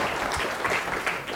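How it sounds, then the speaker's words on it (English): A brief burst of clapping rises up from a group, dense and steady for just over a second. "Give me a round of applause"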